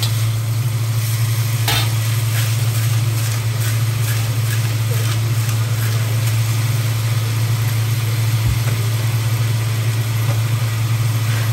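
Bean sprouts stir-fried with salt and chicken powder seasoning are stirred in a pan, giving a steady close sizzle with intermittent scraping of the utensil, over a constant low hum from the stove or hood.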